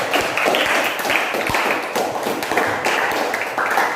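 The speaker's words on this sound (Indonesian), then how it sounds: "Tepuk tangan ya." Classroom students clap together, a quick burst of many irregular hand claps at close range, fairly loud and sustained for several seconds.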